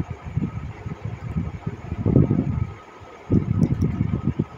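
A sewing machine top-stitches right along the edge of a barfi-cut blouse sleeve, running in two rumbling bursts with a short pause between them, close and moderately loud.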